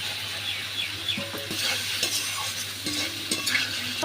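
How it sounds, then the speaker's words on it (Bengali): Spice paste and tomato sautéed in a frying pan give a continuous bright sizzle, with a spatula scraping and clinking against the pan throughout, close and steady, no voices. "এই যে কষানো হচ্ছে কষানো হয়ে যাক"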